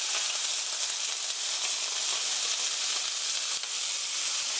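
Chopped onions, Welsh onions and bell peppers stir-fry in a hot pan for an oyster mushroom rice bowl, giving a steady, close sizzle with faint scraping and stirring throughout.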